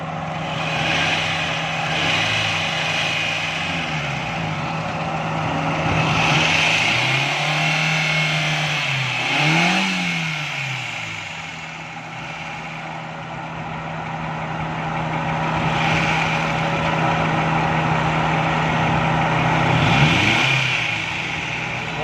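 A car engine being tuned during a breakdown repair, idling steadily with repeated revs rising and falling as the gas and mixture settings are adjusted, loud and close with no talk.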